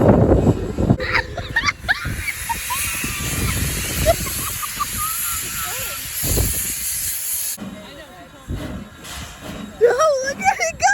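Train rolling past near a small train graveyard in Scranton, heard as steady hissing and rumbling with squealing wheel and brake tones, while people talk over it throughout.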